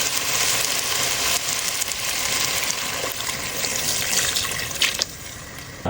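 Water poured from a tap into a pot of chicken tinola, a continuous splashing, gurgling rush that stays loud and even, with slight shifts near the end.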